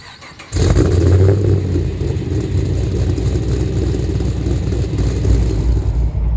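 A supercharged 2010 Chevrolet Camaro SS starts up abruptly, then holds a loud, steady deep rumble with a low throbbing pulse that stays close and constant throughout, no voices present.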